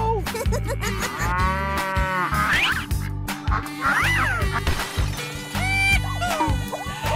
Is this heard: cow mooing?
yes